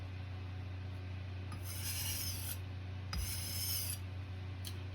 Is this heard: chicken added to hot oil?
no